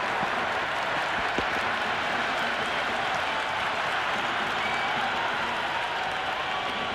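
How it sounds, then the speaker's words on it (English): Stadium crowd at an IPL cricket match between CSK and MI roaring and cheering after a six, a dense, steady wall of sound with scattered claps, loud and sustained throughout. "It's evident and ever so audible that the crowd is at near bursting point at today's play"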